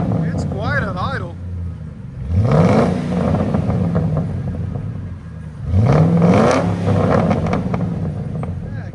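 A Ford F-150 with a 5.4L Triton V8 and custom dual exhaust revs twice from idle, each rise a deep, loud rumble that swells and falls back, with people talking close by.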